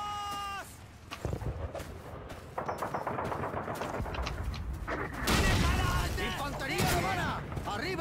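Rapid bursts of gunfire crackle through a Call of Duty 2 battle, with dense overlapping shots and a shouting voice early on, followed by sustained loud firing and echoing cries.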